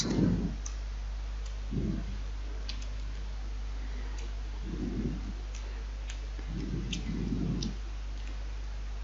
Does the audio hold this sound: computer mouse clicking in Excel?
yes